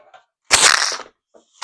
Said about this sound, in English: Sorry for the noise. My mic fell on the floor.